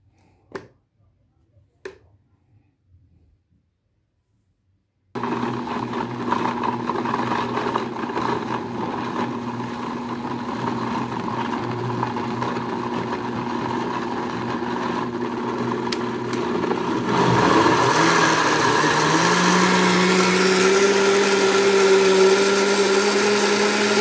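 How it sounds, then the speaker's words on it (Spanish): A few light taps, a pause of silence, then a kitchen blender starts and whirs steadily, its motor pitch shifting and rising as the ingredients break down near the end. "Y licuamos."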